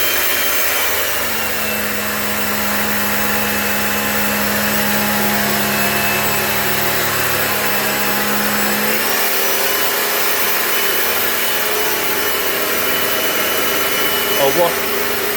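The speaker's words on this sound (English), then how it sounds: "So I'm going to turn this on. First of all, the low pressure pump," Low and high pressure pumps of a 70 litre-per-hour desalination system run steadily, a loud continuous mechanical whine and hum that shifts pitch partway through as the second pump joins, with no talk over it.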